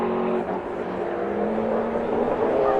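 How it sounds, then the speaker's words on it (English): Ferrari race car on track at a race meeting, engine droning loudly and steadily as it crosses the finish line, with a sustained harmonic whine and continuous roar from start to end. "as the Ferrari comes across the line."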